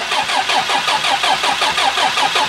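A 40-year-old telehandler's diesel engine cranks over in a steady, rapid rhythmic chug that is loud and close throughout, with no voices heard.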